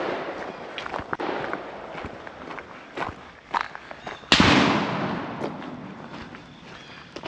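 Pistol shots at an outdoor shooting range, a few sharp cracks spread out with a louder close report near the middle followed by a decaying echo, over faint background noise.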